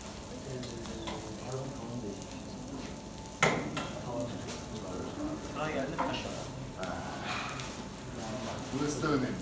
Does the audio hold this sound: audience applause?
no